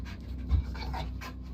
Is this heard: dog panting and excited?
yes